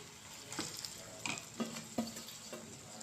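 Onions fry in a pan for a bitter gourd dish, with a continuous soft sizzle. A spatula scrapes and stirs in five distinct strokes roughly every half second.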